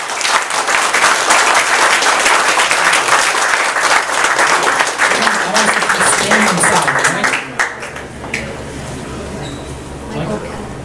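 Dense, sustained audience applause fills a closing session of the FOSSASIA open-source tech summit, loud and continuous for most of the stretch before thinning toward the end, with some voices mixed in.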